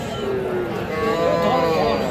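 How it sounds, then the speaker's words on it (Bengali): A bull calf at a busy village cattle market in Raniganj lets out a long, loud moo, with steady crowd chatter and market noise all around. "এটা ষাঁড় বাছুর না ভাই?"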